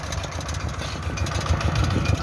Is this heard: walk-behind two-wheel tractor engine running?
yes